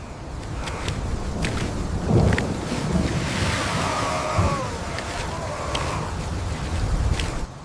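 Steady roar of wind-driven rain in a medieval castle courtyard, a dense continuous wash with gusting swells and a few sharp cracks, no voices.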